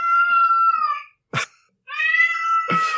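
A cat yowls loudly twice in long, drawn-out wails, each followed by a sharp breathy burst, close by with no talking.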